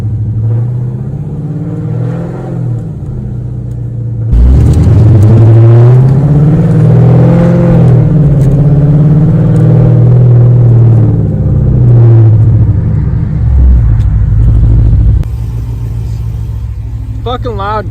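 A Subaru WRX engine revs loudly up close, a deep rumbling roar that swells and holds for about ten seconds before dropping back, with people talking in the car.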